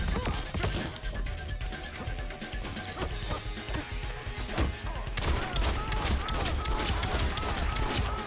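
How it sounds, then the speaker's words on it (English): Rifle gunfire from a Mortal Kombat 11 fight, a dense rapid volley of sharp shots continuing throughout, loud and close amid game impacts, with a player talking over it. "Okay, emptied out the rifle."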